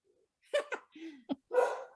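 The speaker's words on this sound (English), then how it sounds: "got a dog barking" Nearby dog gives a handful of short, uneven barks and yelps in quick succession, with a longer final one, in an otherwise quiet room.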